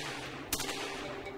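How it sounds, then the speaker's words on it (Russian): A single sharp gunshot fired at an enemy bot in the video game Project Helena, one brief crack against a quiet background hum. "А теперь правой клавишей мыши мы можем стрелять по нему."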